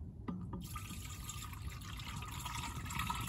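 New brake fluid poured into a Motive power bleeder for a BMW E46 brake flush, a steady close liquid pour and trickle running continuously with no talk.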